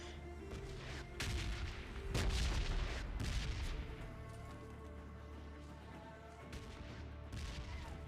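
A Tommy gun fires in a PUBG Lite match, heard as faint, distant bursts of gunfire against quiet game ambience.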